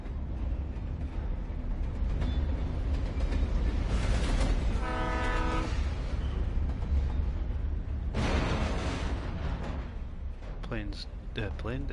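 A video game train rolls past with a continuous heavy rumble and rattle, broken by a loud, harmonic horn blast in the middle and another burst of noise later, fading out toward the end.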